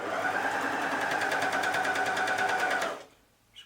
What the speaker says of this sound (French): je couds ici et je couds un petit peu plus loin, puisque de toute façon dessous j'ai du tissu qui s'est effiloché